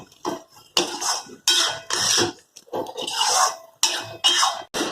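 Fried chicken pieces being tossed with onion and capsicum in a pan for chilli chicken, heard as loud, close scraping and clattering of a utensil against the pan in repeated bursts with brief pauses between strokes.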